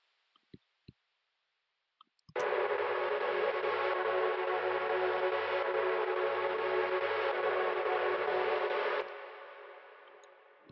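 A reversed melody sample treated with EQ, reverb and delay: after a few faint clicks, a dense swelling wash of sound enters abruptly, sustains with a steady low drone, then cuts off into a fading reverb tail, no voices.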